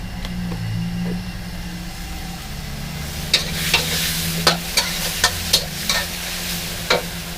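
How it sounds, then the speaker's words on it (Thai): Vegetables and crispy pork are stir-fried in a pan for Thai basil pork, with a steady sizzle under a run of sharp spatula scrapes and clanks that quicken in the second half. "ผัดผักให้สุกก่อนแล้วก็ใส่เนื้อเหรอ ใส่หมูกรอบ"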